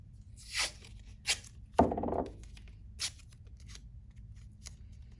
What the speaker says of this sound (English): you can take some of this painter's tape and put it on the back side of your hoop like this